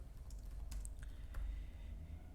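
Light typing on a computer keyboard as a file name is entered: a handful of soft, scattered key clicks, faint and close, over a low steady background hum.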